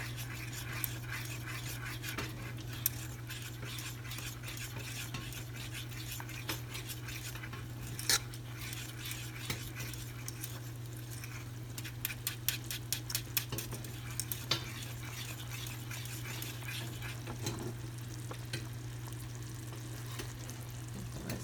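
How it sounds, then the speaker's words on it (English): Cornstarch being stirred into egg foo young sauce in a pan: quiet, continuous scraping and clicking of a utensil against the pan over a low steady hum, with a faster burst of taps midway and no talk. "Then you start stirring it"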